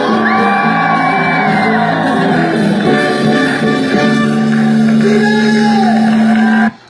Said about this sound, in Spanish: Alguien quiere un grito de júbilo.